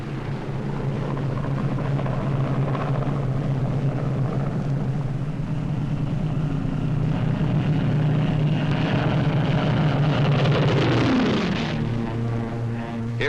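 RAF Boston bombers fly eastward over Britain, their piston engines droning loudly and continuously at a low, steady pitch before the tone bends downward near the end as one passes.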